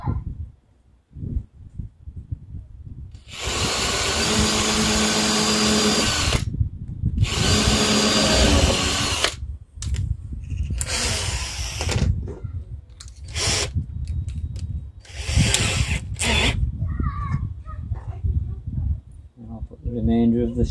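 A power drill with a pilot bit whines in several long bursts, boring holes in a wooden transport box for a 5-inch gauge Class 31 diesel locomotive model, stopping and starting between runs, with a person talking in the pauses.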